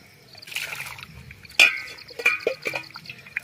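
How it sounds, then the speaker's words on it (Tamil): Water is poured repeatedly over ingredients in a bowl to wash them for a home remedy, giving soft splashes, trickles and drips that are close but fairly quiet. "நல்லா ரெண்டு மூணு சாரம் தண்ணி ஊற்றி ஊற்றி கழுவிக்கணும்."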